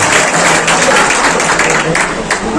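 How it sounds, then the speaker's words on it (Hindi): Audience at an Urdu mushaira poetry gathering bursts into dense, sustained applause, a loud, even wash of many hands clapping that holds steady throughout without pause. "एक बार जोरदार तालियां"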